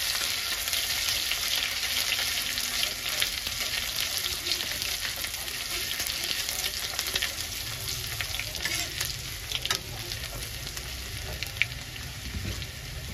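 Green chili, ginger and garlic paste fry in a hot pan with a steady, close sizzle and crackle that holds at an even level throughout, with faint stirring scrapes and no voices.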